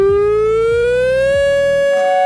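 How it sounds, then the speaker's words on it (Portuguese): A siren sound effect wails with a single rising tone that climbs steadily and stays loud, with faint pulsing beneath it and no talking. "Cara, essa sirene aqui é importante"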